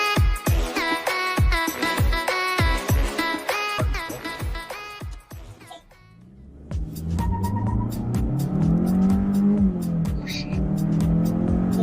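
A Changan CS55 Plus engine revs hard through rising rpm with quick gear changes during a 0–100 km/h acceleration run, then roars steadily under full throttle, loud and close.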